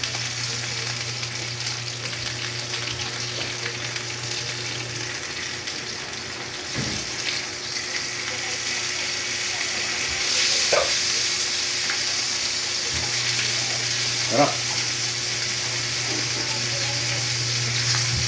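Steady sizzling and bubbling of fish frying in oil, continuous and close, with occasional faint clinks and no talking.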